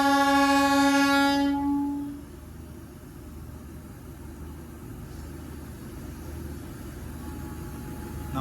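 A DEMU diesel multiple-unit train on the Banihal to Srinagar line in snowy Kashmir sounds a loud, steady horn blast for about two seconds, then fades to a low continuous rumble of the running train with no talking.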